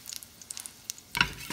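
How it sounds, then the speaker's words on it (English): Crushed garlic, peels still on, drops into browning butter in a pan over low heat and sizzles in a sudden close burst after a few faint taps, then settles to a softer crackle. "We're gonna add in some crushed garlic."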